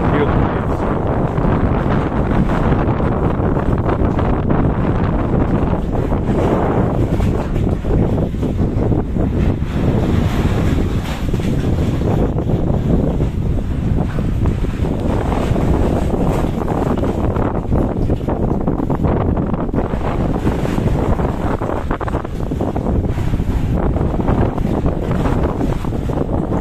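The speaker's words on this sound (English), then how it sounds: "If you look in here, you can hear the waves." Ocean waves wash and surge continuously at Achziv beach in northern Israel, mixed with heavy wind buffeting the microphone; the roar swells and eases throughout.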